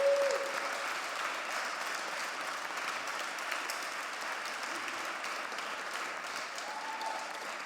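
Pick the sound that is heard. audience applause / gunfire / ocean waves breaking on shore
audience applause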